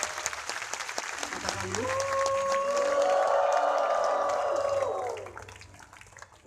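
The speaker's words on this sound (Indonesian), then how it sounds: "Tepuk tangan yang paling meriah buat Tuhan." A large crusade crowd at a healing revival in Manado applauds and cheers, swelling into a loud, sustained roar with raised voices before tapering off, after a brief spoken word from the leader.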